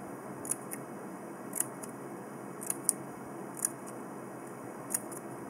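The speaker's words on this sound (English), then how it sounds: "I'm going to take my scissors and I'm going to snip" Scissors snip around the edges of an upcycled cardboard tube. Five or six short, crisp cuts land at a steady, unhurried pace over a constant background hiss, with no talking.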